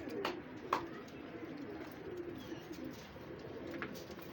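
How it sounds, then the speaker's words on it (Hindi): Golden pigeons at a keeper's loft give soft cooing calls with a few brief chirps over steady background noise, at moderate distance. "ये देख लें उस्ताद जी के तो कबूतर लैस भी हो गए हैं।"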